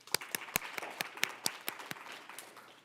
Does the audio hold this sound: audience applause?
yes